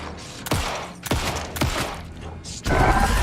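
Gunfire in the survival-horror video game Alan Wake II: three sharp, loud shots spaced about half a second apart, then a heavier, sustained burst of noise near the end.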